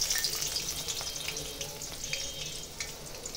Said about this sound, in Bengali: তেলের ভিতরে গরম পেঁয়াজ ছেড়ে দিলাম